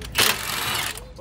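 An impact wrench bursts into a loud, continuous whir with a rattling buzz for about a second while working on a 2009 Nissan Rogue front brake rotor, close up, starting and stopping abruptly.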